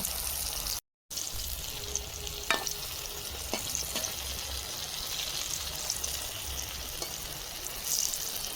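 Vegetarian fish pieces fry in a pan with a steady, dense hiss of sizzling oil and occasional light taps of a utensil, close and even throughout, with a brief silent gap near the start.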